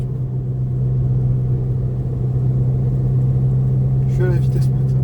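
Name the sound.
Volkswagen Golf 6 TDI stage 2 engine at top speed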